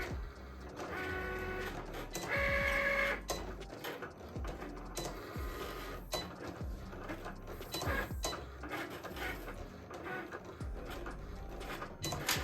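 A Cricut cutting machine works through puff heat transfer vinyl with a quiet, continuous mechanical whir. Short motor whines and carriage shuffles repeat across the cut, with no voices.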